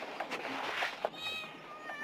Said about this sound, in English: God almighty, the cats.